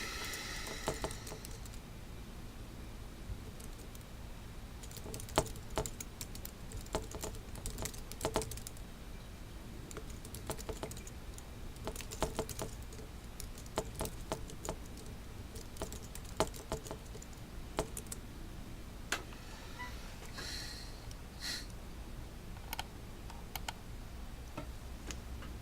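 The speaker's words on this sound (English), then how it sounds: "Let me just type this in" Typing on a computer keyboard by an economics lecturer during an online class, a steady patter of light clicking keystrokes with irregular bursts and louder taps, fairly quiet and continuous throughout, no voice.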